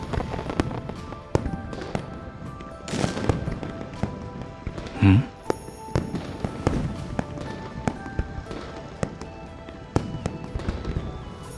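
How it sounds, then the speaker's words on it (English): Repeated loud video-game firework bangs and crackles at a New Year's celebration, with sharp bursts throughout, plus a brief whooshing rise in the middle, with some voices underneath. "The fireworks are too loud."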